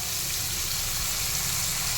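Ginger paste sizzling as it hits hot oil in a pan with tomato and five-spice, a steady close hissing fry that holds evenly throughout, with no voices.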